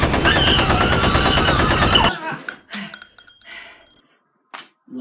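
An AK-47 gunfire sound effect blasts as a dense, rapid automatic burst for about two seconds, then cuts off abruptly, leaving a few faint clicks and brief noises.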